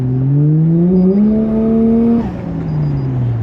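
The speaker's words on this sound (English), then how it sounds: "it would have to be that 1JZ GTE. Just an unreal sound." A Toyota Chaser's 1JZ-GTE engine revs loud and close, its pitch climbing steadily for about two seconds before dropping off abruptly as the throttle lifts, then settling into a lower, falling drone.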